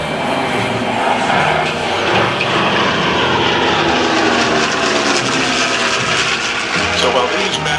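Loud aircraft engine noise at the Biggin Hill International Air Fair, consistent with a propeller warplane passing steadily overhead throughout, a broad continuous roar with faint talk mixed in.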